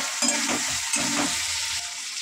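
Potatoes sizzle and fry loudly in a pan of spiced meat curry, with a steady hiss and brief stirring scrapes close up.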